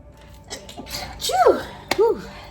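A single sharp sneeze bursts out near the mic, preceded by a quick inhale and followed by a brief voiced trailing sound.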